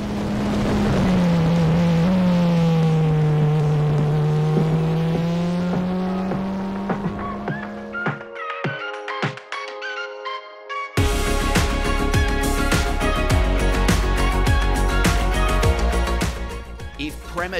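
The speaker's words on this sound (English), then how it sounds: "with Emilio Pesce aboard the number 41 DR Formula racing car." Onboard sound from a DR Formula regional single-seater racing car at the Barcelona circuit: a loud, steady engine note rising and falling through the gears, and a brief near-silent gap partway through before the engine roar returns at full loudness.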